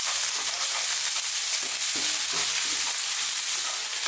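Garlic and ginger paste with onions sizzles steadily in a pan over above-medium heat, a continuous bright frying hiss with a few soft stirring scrapes, close and loud, with no talking.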